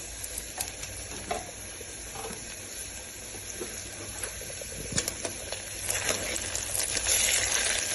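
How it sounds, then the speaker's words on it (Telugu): Onions frying with green chili paste and ginger garlic paste for a mixed vegetable curry, a faint steady sizzle with occasional stirring scrapes and pops, heard close with no talk. "పచ్చిమిర్చి పేస్ట్ ఆనియన్స్ వేగాక ఆనియన్స్ వేగేటప్పుడు అల్లం వెల్లుల్లి పేస్ట్"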